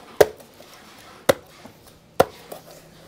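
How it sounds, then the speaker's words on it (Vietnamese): A knife chops spices for cooking a trapped bird, three hard, evenly spaced blows on a cutting board, close and loud, each followed by a short faint knock. "mình chặt úp gia vị nha anh em."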